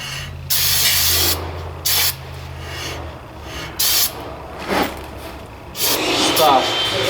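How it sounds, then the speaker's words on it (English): Brake cleaner sprayed over the front brake parts of a 2020 Ford Transit 350, several close, loud hissing bursts of varying length with short pauses between, over a low hum in the first half. "make sure you use the brake cleaner to wash all of this"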